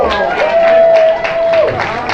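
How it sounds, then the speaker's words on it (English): Audience applause and crowd noise at an outdoor grassroots festival in Wausau, a steady wash of clapping with a sustained tone running through it. "I love the applause"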